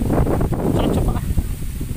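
Mountain wind blows near a river, gusty buffeting and rumbling close to the microphone for a couple of seconds.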